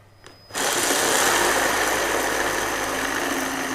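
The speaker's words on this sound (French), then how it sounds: "On va maintenant mixer une première fois pour réduire le volume des épinards." Blender running steadily and loudly on spinach and pine nuts for pesto, starting abruptly after a brief quiet moment and holding a constant whirring roar to the end.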